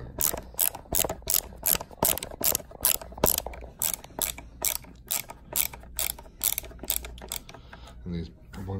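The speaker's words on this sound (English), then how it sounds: "But you just wanna start unscrewing them." A screwdriver backs screws out of the plastic casing of a Fisher & Paykel Icon CPAP machine, giving rapid, regular ratcheting clicks close up, followed by a brief pause and a short rattle near the end.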